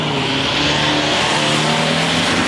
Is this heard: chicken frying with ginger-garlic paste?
no